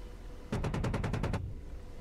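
The 30mm chain gun of an AH-64D Apache helicopter fires in the DCS World game as one short, loud, rapid burst of about nine evenly spaced rounds, then stops.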